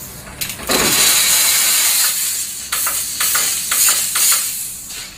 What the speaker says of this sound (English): So we'll wet the area with steam.